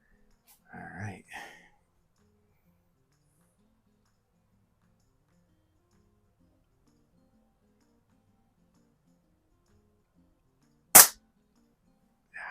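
A Hammerli AP-20 or Air Venturi Comp10 PCP air target pistol fires a single sharp, short crack in an otherwise quiet room, after a faint earlier handling sound and a long silence.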